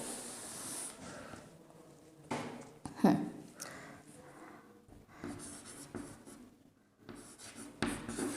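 A teacher writes an example on a classroom board during an English grammar lesson, giving irregular scratchy strokes and taps that come in short bursts with pauses between them, fairly close and quiet, with no voice heard.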